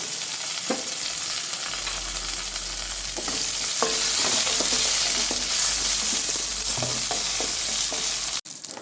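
Okra fries in a pan for Bombay sambar with a continuous loud sizzle and scattered stirring scrapes and taps, then a sudden break near the end.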